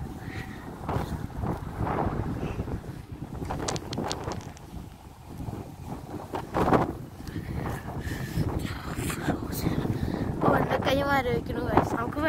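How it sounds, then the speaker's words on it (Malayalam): Strong wind gusts across the rocky shore of Albro Lake, buffeting the microphone with uneven rushing bursts while people talk over it. "നല്ല കാറ്റടിക്കുന്നു."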